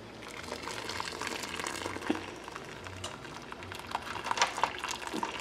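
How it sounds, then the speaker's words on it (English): Water draining and trickling out of freshly dyed paper into an aluminum tray, a soft, steady wet patter with scattered drips and small splashes, fairly close, with no talking. "Just let the water drain out."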